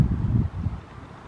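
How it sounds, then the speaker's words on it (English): Low, rumbling buffeting of wind hitting a microphone, strongest at first and easing off over a brief moment. "it's a bit windy over here"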